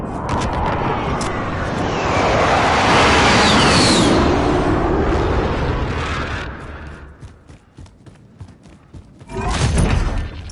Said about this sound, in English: Be advised, precision airstrike